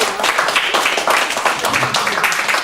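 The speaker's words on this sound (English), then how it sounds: "we need to give Joyce a little round of applause" A gathered audience at a local history celebration applauds in a dense, continuous patter of many hands, loud and near, with faint voices mixed in underneath.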